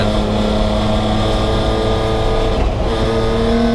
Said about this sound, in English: I love all the sounds from a race car, man.